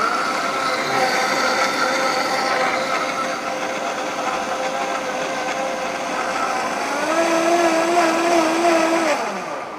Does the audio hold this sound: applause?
no